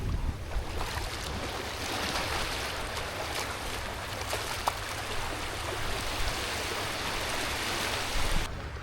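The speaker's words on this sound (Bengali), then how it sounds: "পানি সাউন্ড অস্থির" Waves and sea water wash steadily on Guliakhali beach at Sitakunda, giving a broad, constant surf roar with wind and no speech.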